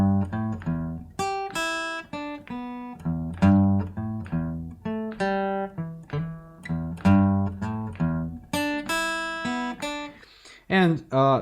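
Electric guitar playing blues licks in a steady eighth-note rhythm, clean plucked notes in quick successive phrases with brief pauses between them.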